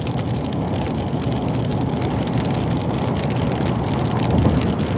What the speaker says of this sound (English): See, it's still raining though.